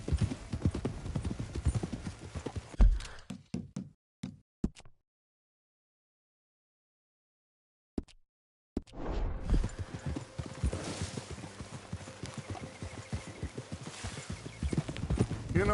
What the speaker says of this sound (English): Mount up then, Morgan. Let's go then. Giddy up